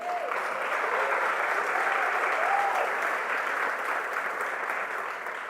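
A church congregation applauds during a sermon, dense sustained clapping from a large crowd, loud and even throughout, with a faint voice briefly audible near the start.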